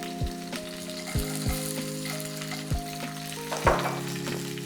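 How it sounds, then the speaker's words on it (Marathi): Cashews and coconut pieces roast in a pan with a steady sizzle and crackle, broken by a few soft low thumps as they are stirred. Faint tonal sounds run in the background, and no one speaks. "मागीर हें खोबरे कुडके म्हळ्यार कातळी म्हणटात आमी हाका. समा भाजून घेवका"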